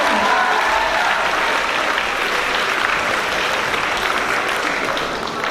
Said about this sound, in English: Can we get another round of applause for the swag bill?